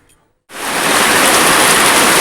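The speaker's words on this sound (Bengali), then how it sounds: "দেখো কি মুসুলধারে বৃষ্টি হচ্ছে" Heavy, pouring rain with wind starts abruptly after a moment of near silence and then holds as a loud, dense, even hiss close by.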